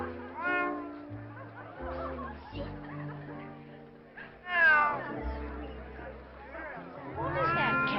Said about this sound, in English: What is that cat doing in here